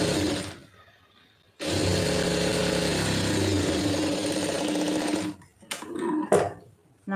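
A sewing machine stitches a lining blouse in one steady, loud run of several seconds, stopping abruptly, followed by a few brief bursts of needle action.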